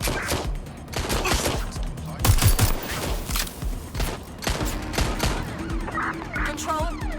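Gunfire erupts during a street shootout in the video game Watch Dogs: Legion, sharp bursts of shots mixed with game effects and background noise, loudest around the middle, with other in-game sounds continuing around them.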